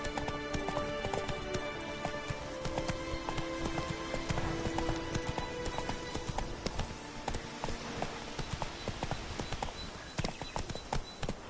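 Roach, Geralt's horse in The Witcher 3, gallops with a dense, steady patter of hoofbeats over a busy game soundscape, close and continuous throughout.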